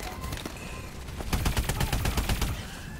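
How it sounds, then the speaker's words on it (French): Gunfire in the video game Call of Duty: Advanced Warfare, heard as rapid bursts of automatic shots that build into a dense volley midway, loud and continuous against a busy game background. "je tire une balle"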